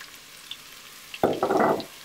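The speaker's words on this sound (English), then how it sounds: "we're gonna go into our hot pan here with our sweet potatoes" Sweet potatoes and chopped ginger hit a hot pan, bursting into a sudden loud sizzle after a quiet moment, crackling and spitting close by for under a second.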